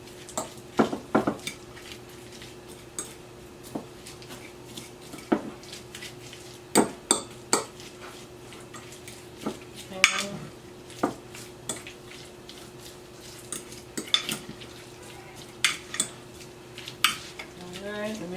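A spoon stirring a seasoning mixture in a bowl for a seafood fry, with repeated sharp clinks and scrapes of utensil on the bowl spaced irregularly over a quiet kitchen background.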